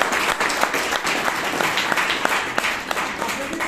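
Audience applause at a Bangalore Toastmasters club meeting, a steady patter of many hands clapping together from the room for several seconds, moderately loud and unbroken.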